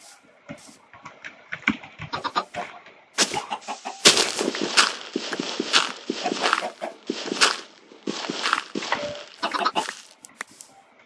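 Chickens in Minecraft cluck repeatedly in short, choppy bursts that grow busier and louder midway, with several birds overlapping in a dense, close cackle throughout.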